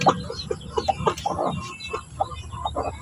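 Native chickens clucking with chicks among them, a series of close, short, rhythmic clucks and peeps spread across about three seconds, with no talk.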